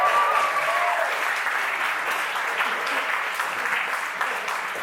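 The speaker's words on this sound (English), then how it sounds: "Let's just go ahead and get some cheap applause." Comedy club crowd at the Highland Inn breaks into loud, sustained applause, a dense, even roar of clapping throughout with a brief voice at the start.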